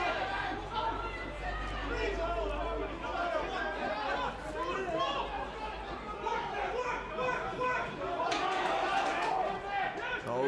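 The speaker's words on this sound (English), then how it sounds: "And just listen to the crowd" Crowd at an amateur rugby match between Old Wesley and Old Belvedere, a steady murmur of chatter and scattered shouts swelling as a line-out drive builds, with no clear commentary in the clip.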